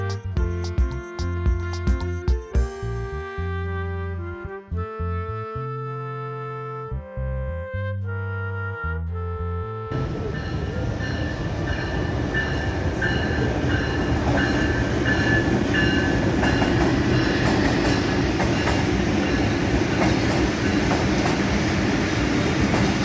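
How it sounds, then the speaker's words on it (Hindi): A passenger train pulls into a railway station platform in Gujranwala. A horn-like melodic tone sounds over the first seconds, then the steady, loud roar and clatter of the rolling carriages takes over. "सुबह से पहली ट्रेन जो है अभी पहुंची है"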